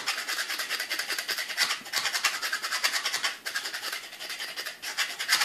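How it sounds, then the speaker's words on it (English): Secateurs blade being sharpened by hand, giving a continuous dry rasping scrape of quick, repeated strokes, close and fairly even, with no talking. "So we're going to sharpen the blade."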